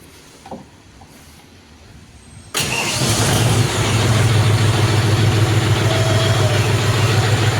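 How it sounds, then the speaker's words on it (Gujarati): A John Deere 5045 D PowerPro tractor's diesel engine cranks on its self-starter and catches abruptly, then settles into a loud, steady, smooth idle close by, with a few faint knocks before it fires. "કંઈક આ પ્રકારનો સેલ્ફ લાગે. એકદમ સ્મૂથ સ્ટાર્ટિંગ છે."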